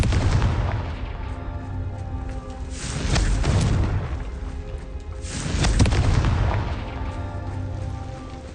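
Repeated blasting spell explosions in the video game Hogwarts Legacy: two heavy booming blasts a few seconds apart, each swelling with a deep rumble over a constant loud game backdrop.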